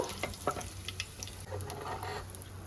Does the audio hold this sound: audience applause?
no